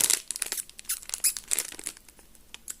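Plastic film wrapper on a box of Star Wars jelly beans gets pulled and torn open, giving close, bursty crinkles and tearing rustles that fade toward the end, with no voice over them.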